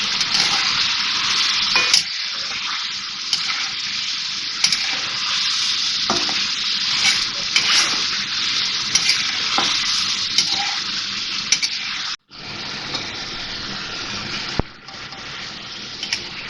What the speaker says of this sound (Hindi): और अब इसको फ्राई करेंगे कि वाइट हो जाए इसका कलर।